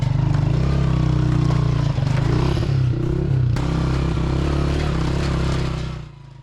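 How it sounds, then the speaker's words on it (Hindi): A motorcycle labouring up a steep off-road mountain climb in Gilgit-Baltistan, the engine loud and close with a strained, uneven drone, clattering and scraping from the rough ground, then easing off at the end. "एक जगह तो इतनी चढ़ाई मिली कि बाइक ने आगे जाने से इनकार कर दिया।"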